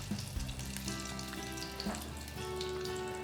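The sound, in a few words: banana flower masala balls frying in oil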